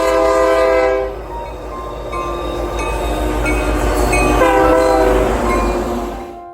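A loud train rumbles past nearby near the Superior Hiking Trail by Lake Superior, its horn sounding in sustained chords, the noise swelling and then fading away.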